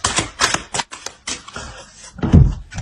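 Tarot cards are shuffled by hand nearby in a series of quick, papery riffles and soft slaps, ending in a heavier thump as the deck is squared.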